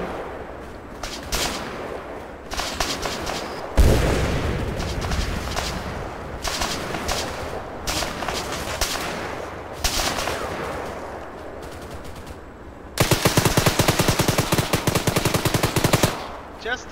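BTR armored vehicle's machine gun firing in a military video game, sustained loud automatic bursts with a denser, harder burst near the end, amid gunfire and explosions, with a voice talking over parts of it.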